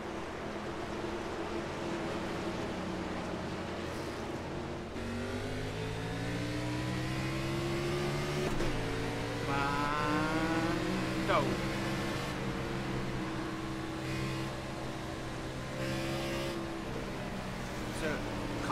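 Race cars roar through an iRacing video game race at Las Vegas, engines droning and shifting pitch steadily as they pass, heard alone at moderate volume throughout.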